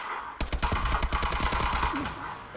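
Rapid automatic gunfire from an AK-12 in the Advanced Warfare team deathmatch on the Biolab map, a dense, loud rattling burst of shots that runs almost the whole time.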